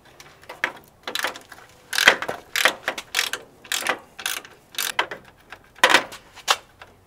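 An Easy Red bit ratchet drives a cut-down Phillips bit on a Toyota, producing close bursts of rapid ratcheting clicks that come in short, uneven strokes.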